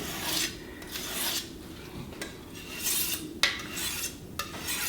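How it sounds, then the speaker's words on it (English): A dull kitchen knife drawn through the coarse side of a pull-through sharpener gives repeated rasping strokes, several close, steady passes with brief pauses, and one sharper scrape midway. "I'll pull this thing out and do some serious knife sharpening"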